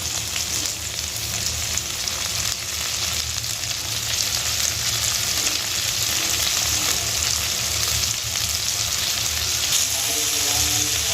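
Chopped onion, capsicum, carrot and beans fry in a pan with a dense, steady sizzle that holds loud and constant for the whole stretch, with no voice heard.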